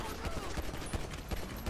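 Gunfire in a police video game: a rapid burst of sharp shots cracks out in an uneven volley, loud and close, running through the whole moment with no talk over it.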